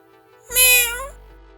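A cartoon lion turned docile gives one clear, high meow like a kitten, loud and close, rising and then fading over about half a second against a quiet background.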